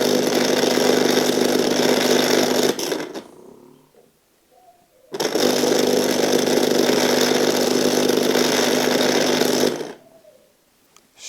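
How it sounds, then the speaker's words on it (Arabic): A Clatronic electric orange juicer motor runs with a steady, loud whirring buzz in two long bursts, each stopping abruptly into near silence before starting again. "كيبقى يدور هذا الموتور هذا"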